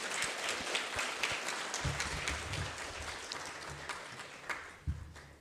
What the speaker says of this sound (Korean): 네, 다시 한번 박수 한번 하겠습니다.